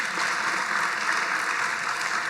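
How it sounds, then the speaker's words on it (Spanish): A church congregation applauds during a Christmas sermon, loud dense clapping from many people sustained evenly and close throughout. "Un aplauso, Señor, por esta palabra en este día"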